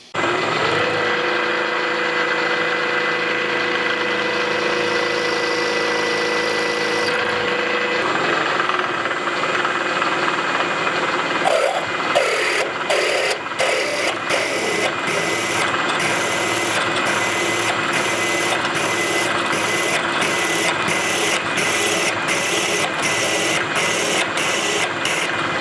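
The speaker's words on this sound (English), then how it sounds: "We're going to drill it easy. We're going to spot drill" A machine drones steadily, then a drill starts spot drilling into a steel welding table with a fast, regular chattering grind that keeps going to the end.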